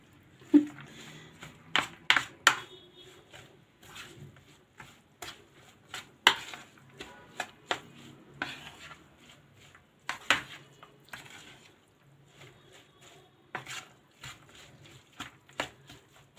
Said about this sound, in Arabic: هنقلب بقى الخلطه الجميله دي كلها كده مع بعض